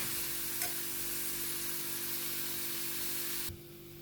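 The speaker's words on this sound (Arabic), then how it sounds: "غادي نشحرها مزيان حتى تهبط ليا هذيك البصل الحمراء الخضراء" Red and green onions frying in a pan give a loud, steady, close sizzle throughout, ending abruptly with a brief clunk near the end.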